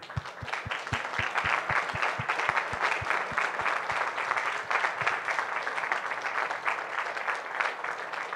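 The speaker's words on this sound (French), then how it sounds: "on vient d'applaudir le patch de la mission Epsilon" An audience at the Paris Space Hub during the 2025 Paris Air Show bursts into applause for the Epsilon space mission patch, a rhythmic rush of clapping that settles into a steady, dense patter and continues throughout.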